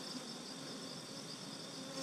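Honey bees buzzing inside an opened hive during an August inspection: a steady, dense, close hum with no pauses and no voices.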